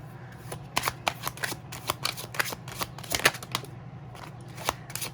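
Tarot cards are shuffled by hand in a steady run of soft, crisp riffling flutters and taps. The sound is close but fairly quiet, with no talking over it.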